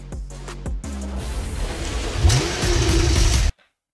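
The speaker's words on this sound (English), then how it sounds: "This guy is revving in park." In the video game NTE, a parked car's engine idles and then revs upward in a rising roar, loud and close, before cutting off abruptly into silence.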